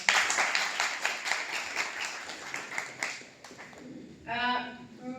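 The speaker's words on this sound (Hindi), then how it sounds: "एक बार जोरदार तालियां।" A college camp audience for a girls' Mission Shakti program claps in a brisk burst that thins out and fades, after which a voice begins speaking.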